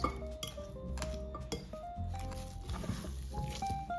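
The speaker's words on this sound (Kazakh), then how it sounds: "Жақсылап тұрып вилкамен осылай басып бүкіл консистенциямызды араластырамыз" A fork clinks against a bowl while mashing and mixing cheese dough for syrniki, with soft squishing between sharp metallic taps. The sounds are irregular, close, and fairly quiet, with background music tones underneath.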